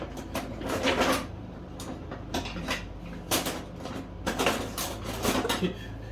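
Kitchen drawer being rummaged for a baking scraper, with repeated metallic clinks and clatters of utensils and pans in bursts over a low steady hum.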